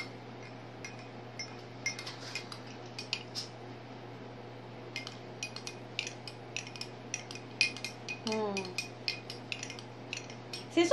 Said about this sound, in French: c'est seulement de brasser pour que vos huiles essentielles se mélangent bien